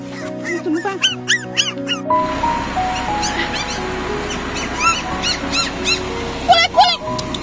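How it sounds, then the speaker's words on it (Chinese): Several stray dogs yelp and whine in short high cries, with a burst near the start and more scattered through the rest, mixed with other noise and a person talking. "这怎么那么多流浪狗哎"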